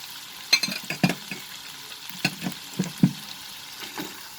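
Red chilies and cubed potatoes fry in hot oil in a pan, giving a low sizzle broken by irregular crackles and sharp pops and a few stirring scrapes, close and without speech.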